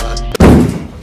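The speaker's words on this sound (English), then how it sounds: "Gunshot." A single heavy gunshot boom from a Nigerian movie trailer, a loud close thump that cuts through the backing music and then decays over about half a second.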